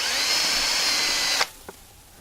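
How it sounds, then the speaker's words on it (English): A power drill whines steadily at close range for over a second, drilling a pilot hole for a door strike plate, then cuts off abruptly, followed by a brief small click. "You're going to drill your pilot hole"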